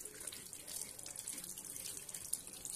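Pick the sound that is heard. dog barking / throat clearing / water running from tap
water running from tap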